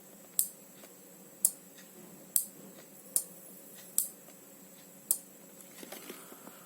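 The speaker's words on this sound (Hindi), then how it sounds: "अपना लेफ्ट वाला जो रिले है वो काम कर रहा है, हमको एक क्लिक साउंड मिल रहा है" A relay module clicking as its supply is switched on: six sharp, distinct clicks spaced roughly a second apart, close and crisp over a faint electrical hum, followed by a few softer ticks.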